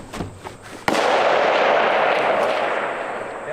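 A single sharp centerfire rifle shot cracks at a PRS shooting match, followed by a long rolling boom and echo that slowly decays across the range after a few faint handling sounds.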